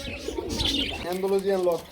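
A pigeon coos briefly, a soft throaty warble close by, following a moment of muffled background noise and bird chatter.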